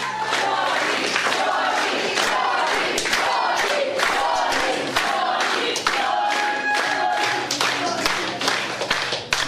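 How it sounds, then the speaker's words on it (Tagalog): A large audience at a public event claps and cheers steadily, loud and dense throughout, with a brief tone sounding over the applause partway through. "At pwede rin po ba kayong pumalakpak?"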